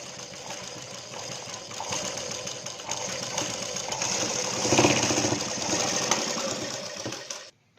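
An electric sewing machine runs a continuous half-inch seam through a piece of a two-piece katori blouse, whirring steadily and rising slightly in speed before stopping abruptly.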